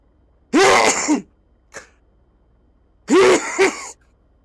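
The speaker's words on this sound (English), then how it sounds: "That was some sneeze." Two loud, close human sneezes from a man getting over a cold, each a sharp burst with a short tail, separated by a brief small sniff or click, in an otherwise quiet room.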